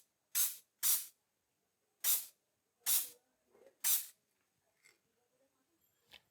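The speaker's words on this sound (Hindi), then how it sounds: "एकदम लाइट स्प्रे करना है और रोक रोक के करना है" Aerosol spray paint laid onto a car body during scratch repair, in five short, close, sharp hissing bursts separated by pauses, followed by a few faint taps and softer sprays.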